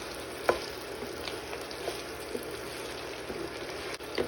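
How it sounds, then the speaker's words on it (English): Okra sizzles gently in a pan with onions and tomato, a continuous soft frying hiss with occasional small spatters and a clink, no talking. "we're just gonna let this fry now for 5 to 10 minutes"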